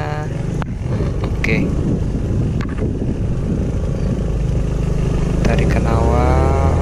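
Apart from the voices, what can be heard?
Honda Forza 250 scooter engine accelerating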